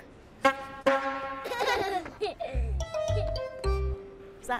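Young children's voices imitate car horn honks in short, loud bursts, with a few deeper horn-like toots and chatter between them.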